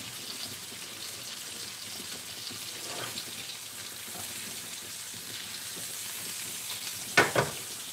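Butter sizzles steadily in a frying pan over just-below-medium heat, a soft, even hiss with fine crackles throughout and a couple of brief louder spits near the end.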